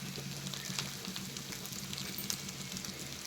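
Chicken fry cooks in a pan with a continuous, close sizzle and crackle, a dense, even frying hiss with small pops, and no talking.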